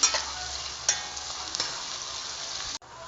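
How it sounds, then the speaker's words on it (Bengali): Onions browning in oil in a pan for a large mutton curry, a steady close sizzle with occasional stirring scrapes, then a brief drop near the end. "পেঁয়াজটি দিয়ে ব্রাউন করে ভেজে নেব"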